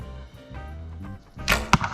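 An arrow loosed from a bow at an archery contest, heard as a brief string snap followed by a sharp thwack as it strikes the target, loud and close, with no talk.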